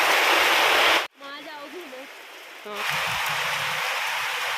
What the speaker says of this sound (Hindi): बहुत ज़्यादा तेज़ बारिश आ गई है